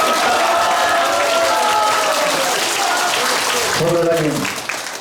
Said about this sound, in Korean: 소장님 여기 오시니까 박수 많이 받으시네요